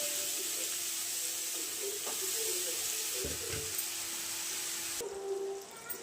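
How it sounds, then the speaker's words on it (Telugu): Grated raw mango drops into a hot, salted pan, bringing a soft thud and a burst of sizzling. A gentle steamy hiss follows and continues, close up and moderately loud, with no talking. "ఇప్పుడు మనం తురుముకున్నాం కదా ఈ మామిడికాయ అంతా దీంట్లోకి వేసేద్దాం"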